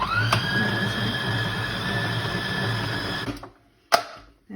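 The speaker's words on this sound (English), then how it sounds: "now we're just going to beat the orange zest into the mix" Electric mixer beating orange zest into cupcake batter, a steady whirring motor hum held for about three seconds before cutting off, followed by a brief clunk.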